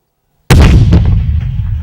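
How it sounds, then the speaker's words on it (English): A sudden, loud explosion in a film bursts after half a second of silence, then rumbles on as a long, heavy, decaying roar with crackling debris. "You did the rabbit, the gratuitous explosion."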